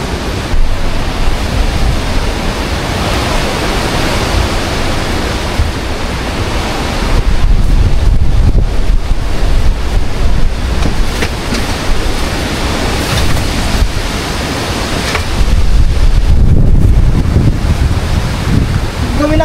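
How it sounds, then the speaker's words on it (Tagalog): Strong typhoon winds roar and buffet the microphone continuously, a loud, rushing wall of noise that surges in heavier gusts at intervals, with no clear voices over it. "Malakas kasi ang hangin."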